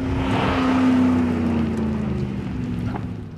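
The 6.2-liter engine of a Ford Raptor runs with a loud, steady droning roar and a sustained tone that dips slightly, easing off toward the end.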